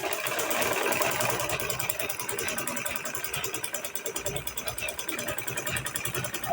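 Sewing machine top stitching a DIY purse, a steady fast mechanical whirr running throughout with a rapid rattling needle rhythm, close and continuous.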